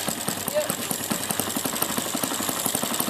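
A YS four-stroke model airplane engine in a Showtime 90 plane runs with a rapid, even pulsing beat at close range, while voices murmur faintly nearby.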